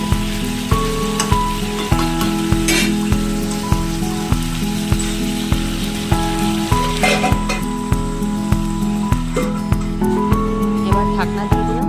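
Half-boiled kabuli chickpeas and goat meat stir-frying in a pan, a steady sizzle running under rhythmic, pulsing music throughout.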